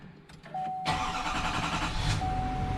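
A Duramax L5P diesel truck engine, just fitted with a Titan fuel tank, cranks briefly and then fires into a loud, steady idle rumble heard up close, with no talking.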